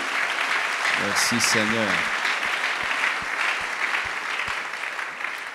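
A church congregation applauds the servants at a worship gathering, a steady, full wash of clapping throughout while someone briefly speaks over it near the start.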